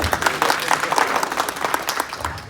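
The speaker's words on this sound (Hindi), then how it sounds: "जोरदार ताली" An audience applauds, dense continuous clapping from a crowd at steady loudness throughout.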